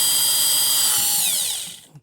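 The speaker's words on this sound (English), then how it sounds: "drilling very slowly" A drill turns slowly into a BMW Touring tailgate with a close, high-pitched whine that holds steady, then drops in pitch and winds down to a stop within about two seconds.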